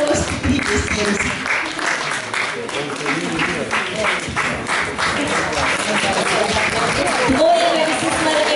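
Audience at a Lithuanian celebration for men named Antanas and their guests applauding, a dense, steady wash of clapping over the full clip with voices mixed in.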